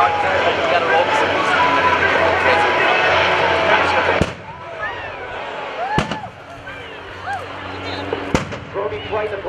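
Pyrotechnic blasts simulating hostile fire go off at the 2011 Rhode Island Air National Guard open house and airshow combined arms demonstration, several sharp loud bangs with crowd noise and aircraft drone beneath, while an announcer talks over the first part.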